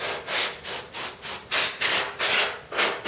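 Compressed air sprays dust off a computer's fans, motherboard, boards and RAM in a quick run of eight short, loud, hissing bursts with brief gaps between them.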